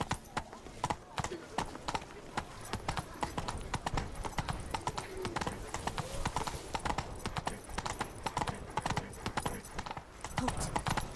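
Roach, Geralt's horse in The Witcher 3: Wild Hunt – Blood and Wine, trots along in steady clip-clop hoofbeats, close and continuous, with game ambience and a brief whinny-like tone underneath.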